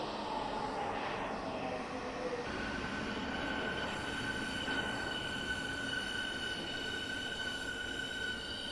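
An S-Bahn train running on the Berlin Ringbahn in Train Simulator Classic, a loud continuous rolling rumble with a sustained high-pitched wheel squeal and hum running throughout, no talk.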